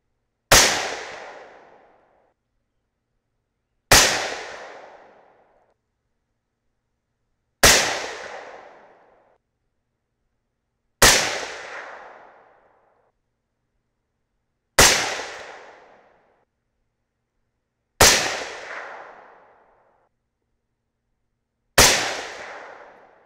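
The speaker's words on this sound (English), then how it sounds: "First up, large rifle primers, the standard Lapua brass." Seven loud, sharp .308 Winchester rifle shots with large primer loads in Lapua brass, fired singly about every three and a half seconds, each crack followed by a decaying outdoor rumble and no talking.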